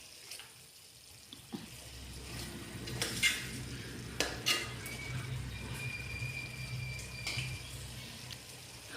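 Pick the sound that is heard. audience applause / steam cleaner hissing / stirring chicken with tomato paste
stirring chicken with tomato paste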